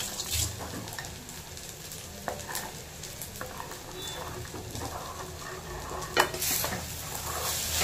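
Sabudana khichdi is stirred and sautéed in a pan, giving a continuous soft sizzle with scraping and tapping from the spoon and occasional louder knocks.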